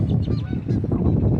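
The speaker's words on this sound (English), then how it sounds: "we got geese in the house" Flying geese honk over and over in a loud, close, overlapping flurry of calls, with no voices.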